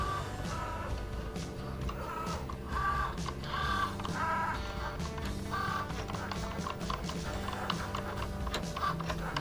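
Cricut cutting machine running in a home office, a close mechanical whir with rhythmic ticking and periodic carriage movements, steady and moderately quiet.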